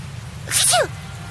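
A single sneeze in the video game Tales of Zestiria, a short sharp burst with a breathy onset, heard over a steady low rumble of background ambience.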